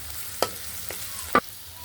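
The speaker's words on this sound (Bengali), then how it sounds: "আমি পেঁয়াজগুলো ভালোভাবে ভেজে নেব।" Chopped onions and green chilies frying in a pan under a quiet background sizzle, broken by three distinct spatula scrapes and taps, the last one loudest, with no voices.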